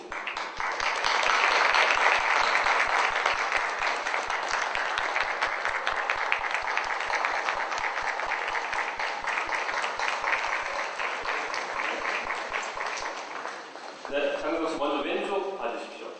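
Sustained applause from a press-conference audience welcoming an actor to the stage, dense and steady for most of the stretch before thinning as a voice speaks over the tail end.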